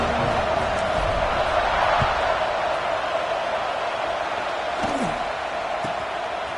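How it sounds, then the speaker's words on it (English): A football stadium crowd at a UT versus OSU game roars steadily before a kickoff, a broad sustained wall of noise with a commentator speaking over it. "They're set to kick it off, and this crowd now ready to get behind them."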